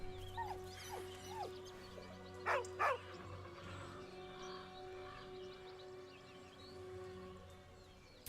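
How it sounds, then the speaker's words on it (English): A dog in Baldur's Gate 3 gives a few soft, brief whines beside a corpse, faint against a steady low game ambience, with a pair of sharper yelps midway. "With a deep, heartbroken whine, the dog bows his head."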